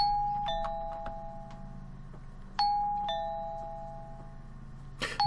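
Doorbell from a visual novel game, a two-tone ding-dong chime that rings twice in quick succession, pauses, then rings twice more, each chime ringing out and decaying over a low steady background hum.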